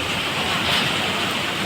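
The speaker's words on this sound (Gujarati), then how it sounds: "પવન એટલો છે અને વરસાદ એટલો" Heavy rain with strong wind in Junagadh, a dense, steady roar of downpour and gusts close by, with no talking.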